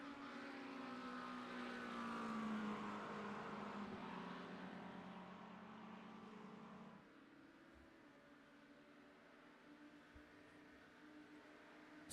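GT3 race cars droning at Daytona in iRacing, a sustained engine note that swells and then falls to a quieter steady hum partway through, with no talk.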